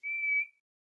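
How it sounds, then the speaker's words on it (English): A small whistle gives one short, clean, steady tone lasting under half a second, close and clear, then trails off into silence. "you see a small whistle, you lift it up to your lips, and you hear"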